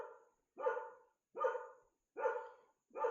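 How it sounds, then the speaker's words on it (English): A dog barks four times at a steady, evenly spaced rhythm, each bark full and fairly close, with silence between them in an indoor setting. "my dog is hearing some noise in the background. He likes to take some barks."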